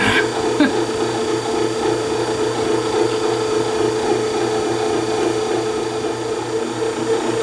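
A Wolfgang Puck 2 lb 14-function bread maker kneads dough on its quick cycle, giving off a steady motor hum and churning drone. The sound is close and even throughout, with a faint voice underneath.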